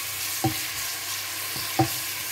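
Meat frying in oil gives a soft, steady sizzle with two brief stirring scrapes against the pan.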